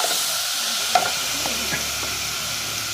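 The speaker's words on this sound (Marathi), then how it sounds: "जिरं मोहरी तडतडल्यानंतर हे आलं लसूणचं व मिरचीचं पेस्ट घालायचं आहे. चांगलं परतून घ्यायचं आहे." Ginger, garlic and chili paste sautés in a pan of oil after cumin and mustard seeds have crackled, a soft steady sizzle with a few stirring clinks and scrapes, close and alone.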